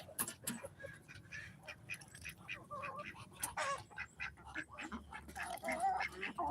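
Ducks quacking on a poultry farm where chickens and ducks are bred, with repeated close calls scattered throughout over a busy background of other birds, and a voice speaking at times.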